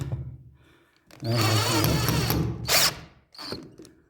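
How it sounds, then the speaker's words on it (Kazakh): A power drill drives screws into the underside of a window frame under construction, with one long whirring run followed by shorter bursts of motor noise, close and loud. "Қазір астыңғы жағын бұраймыз."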